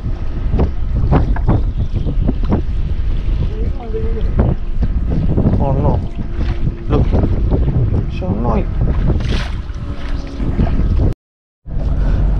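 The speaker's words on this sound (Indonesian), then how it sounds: "Anginnya kencang banget." Strong wind buffets the microphone on a fishing boat at sea, with a constant roar and people talking over it.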